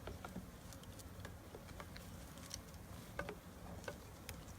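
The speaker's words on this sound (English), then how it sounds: "we're putting the package bees into our beehives" Package honey bees buzzing as they are being installed into beehives outdoors, a steady soft swarm hum with scattered individual bees droning past close by, faint and continuous, with no talking.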